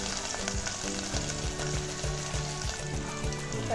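Garlic crisps in hot oil with asafoetida over a low gas flame, producing an even, quiet sizzle with a regular series of soft ticks and no voices.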